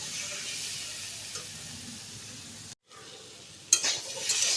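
Sautéed vegetables for a green banana shukto sizzle steadily in a pan, with a brief silence and then a loud scrape of stirring close by, no voices.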